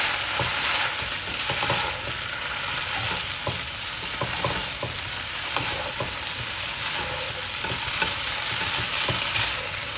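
Wide rice noodles stir-fried in a wok with a little oil and dark soy sauce, a steady loud sizzle broken by repeated scraping clinks of a spatula tossing the noodles.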